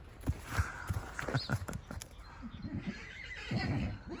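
Horses whinny loudly and repeatedly, calling out to two other horses across the way, with a few faint hoof clops on the ground between the calls.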